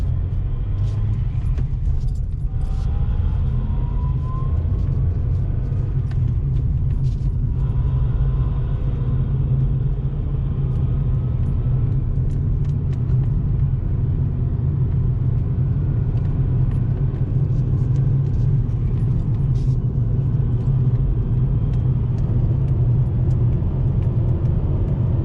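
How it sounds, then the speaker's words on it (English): Steady low engine drone of a 2011 Ford Fiesta with a 5-speed manual, heard from inside as it pulls through the gears, with brief dips and rises in the rumble at each shift, close and continuous. "I'll shift through the gears real quick"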